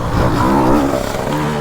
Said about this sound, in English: he revved at me to move out of the way